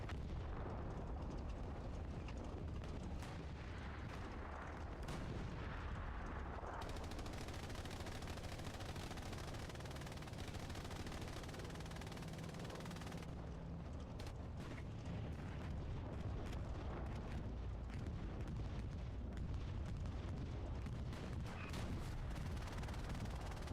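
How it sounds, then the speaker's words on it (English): A video-game bombing run during an online league match: a continuous barrage of booming explosions and rattling gunfire rumbles at low level, rolling on without pause and with no talk. "Bombing run coming in, trying to clear out the point."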